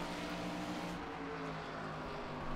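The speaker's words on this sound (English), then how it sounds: "Revving it up really hard." A race car engine revving hard in the iRacing sim at Nashville Fairgrounds, a steady buzzing drone with shifting engine tones and no talk over it.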